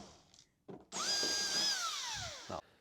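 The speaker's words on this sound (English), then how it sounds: "you're going to go around and drill your 4mm holes into a 9mm hole" A power drill whirs for about two seconds while drilling a hole during a drawer system fit-out in a Land Rover Defender 110, its pitch rising then gradually falling, bracketed by brief clunks before and after.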